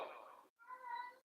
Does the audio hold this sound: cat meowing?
yes